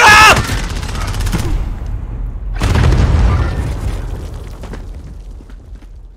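A C4 charge detonates in a multiplayer shooter, a loud close boom at the start and a second heavy blast shortly after, each trailing off into a long rumble mixed with gunfire.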